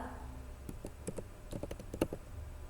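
Quick, light clicks of keys being typed on a computer keyboard, a short burst of about a dozen close taps over a low background hum.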